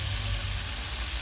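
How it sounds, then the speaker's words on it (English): Steady, even sizzling of chicken frying in hot oil in a pot, a continuous hiss close by with no other sounds over it. "the chicken frying nicely"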